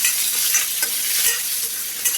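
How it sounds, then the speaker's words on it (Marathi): Oil sizzles loudly and steadily as a spoon stirs curry leaves and coriander through a hot pan of tempering, with a few soft scraping clicks. "आपण याच्यामध्ये कढीपत्ता घालून घेऊ आणि फोडणीला थोडी कोथिंबीर घालू"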